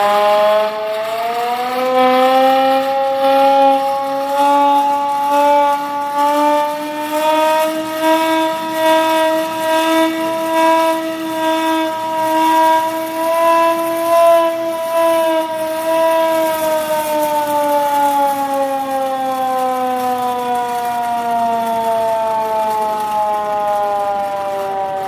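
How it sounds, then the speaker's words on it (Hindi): Civil defense air raid siren at a school mock drill, a loud steady wail that rises, holds and slowly falls in pitch over about twenty-five seconds, with no talk over it. "आप गौर करिएगा कि पहली बार में सायरन बजेगा"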